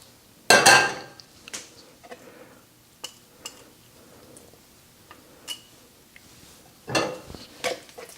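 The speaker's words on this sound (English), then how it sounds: "And we will whisk to combine." A whisk working flour mixture into bread dough in a bowl, giving scattered clinks and taps against the bowl with a couple of louder scraping bursts and no talking.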